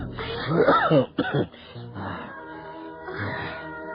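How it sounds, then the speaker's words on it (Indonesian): A man coughs up blood, coughing harshly a few times in quick succession, then lets out rough, strained breaths and groans. "Batuk-batuk ayah mengeluarkan darah."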